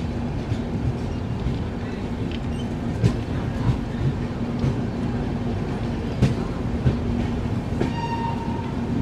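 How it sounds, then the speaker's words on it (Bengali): The Kolkata Jammu Tawi Express runs steadily with a continuous low rumble and hum, punctuated by sharp clanks and clacks of carriages, and a brief whistle-like tone near the end. "ট্রেন তো আমাদের ছেড়ে দিল নির্দিষ্ট সময় 11টা 45-এ"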